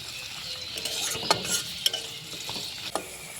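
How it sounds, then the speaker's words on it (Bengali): Chopped carrot fries with onion in a pan for semolina upma, a continuous soft sizzle punctuated by a few light spatula taps and clicks. "গাজরটাকে কিছুক্ষণ একটু ভেজে নেব।"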